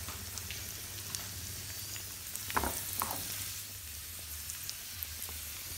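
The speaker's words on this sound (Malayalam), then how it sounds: "അത് കഴിഞ്ഞിട്ട് റേസിൻസ് ഇടണം, എന്നിട്ട് പിന്നെ അത് മൂപ്പിക്കണം" Raisins frying in hot oil in a pan, a steady low sizzle and crackle running throughout with a few brief louder stirring clatters near the middle, no voices.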